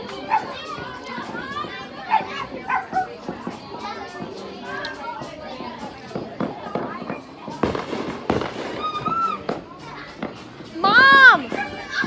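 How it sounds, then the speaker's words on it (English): Fireworks crackle and pop outdoors on the Fourth of July while children chatter and shout nearby, with a louder whistling burst near the end. "They're the best quality fireworks."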